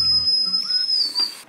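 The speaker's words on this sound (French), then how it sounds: "C'est juste que c'est rigolo parce que ça peut siffler" Short, shrill, steady whistle blown on a whistle-shaped candy, loud and close, wavering slightly in pitch for just over a second before cutting off.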